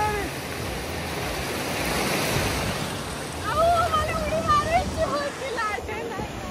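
Ocean waves roll in at a beach in Goa, a broad washing roar that swells partway through, mixed with wind as people's excited voices carry over the surf.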